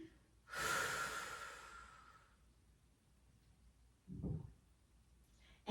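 A person exhales at length during a stretching exercise, a close, soft breath that fades out, followed by a shorter breath a few seconds later.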